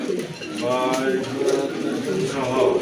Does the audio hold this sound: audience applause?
no